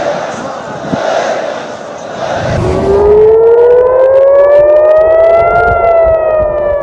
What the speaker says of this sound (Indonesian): Sirine meraung di Tel Aviv,